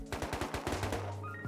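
Rapid automatic gunfire from LR and Tommy rifles in the survival game Rust, a steady burst of about a dozen evenly spaced shots followed by a few beeping game tones, with no talk.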